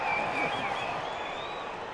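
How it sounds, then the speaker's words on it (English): Stadium crowd noise from a rugby video game, a sustained roar of cheering that holds steady and fades slightly, without any clear speech. "The crowd can't believe it."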